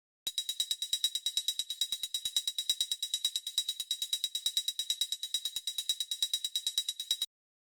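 Techno hi-hat pattern from the Flechtwerk Pro Ableton plugin, exported as audio: a steady, fast run of crisp, bright ticking hits with regular accents, dry and alone for about seven seconds before stopping.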